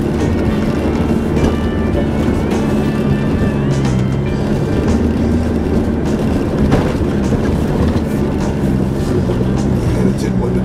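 A 4WD vehicle grinds slowly up small rock ledges in low second gear on the Billy Goat Bluff track, its engine droning steadily and loud throughout with rumbling tyre and chassis noise.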